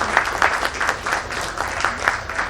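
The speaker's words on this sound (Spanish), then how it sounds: "Aplausos para él," Audience at a book presentation applauds, scattered hands clapping in a loose, slightly uneven rhythm, moderately loud and close, with no talking over it.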